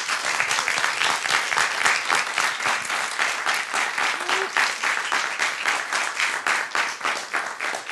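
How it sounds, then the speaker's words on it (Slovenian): A live studio audience at Studio Hendrix, Radio Koper, claps loudly and steadily in a close, continuous round of applause, with no talking. "Mi tukaj v studiu Hendrix bomo sebi in vam prek valov Radio Koper zdajle poslali en velik aplavz."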